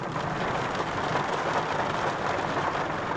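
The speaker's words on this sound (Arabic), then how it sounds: "كثير المطر قوية، كثير كثير." Heavy rain pouring down on a Dubai street, a dense, loud and unbroken hiss of drops hitting surfaces that holds steady from start to finish.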